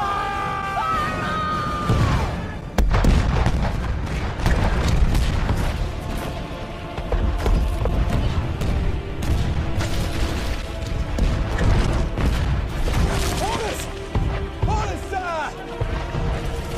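Ship cannons firing in a Minecraft pirate battle recreation, heavy booms and crashes following one another amid a dense, loud clamor of effects and music, with voices shouting over it.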